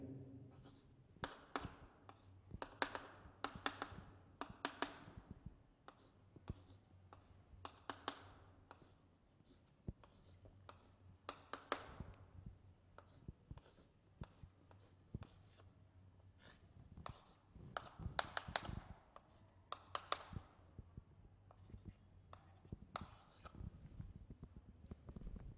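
Chalk or marker scratches and taps across a board while a chemistry structure is written, a long quiet run of irregular strokes and clicks with no voice over them.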